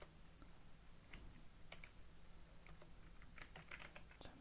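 A computer keyboard is typed on in short bursts of faint key clicks, irregular and quiet over a low background hum, with no talking.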